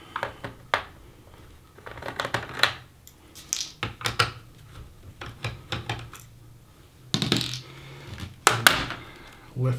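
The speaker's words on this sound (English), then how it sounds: "Remove two screws." Two screws are removed from an Asus Q500A laptop during a memory upgrade, giving small metallic clicks, taps and scrapes from the screwdriver and casing in irregular bursts, close and fairly crisp, with no talking.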